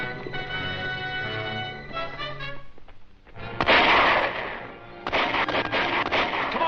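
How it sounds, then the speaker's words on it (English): Machine guns fire in a film battle at a stockade gate, harsh rattling bursts that swell loud after a stretch of low rumbling noise, with dense crackling bangs continuing to the end. "Man the machine guns."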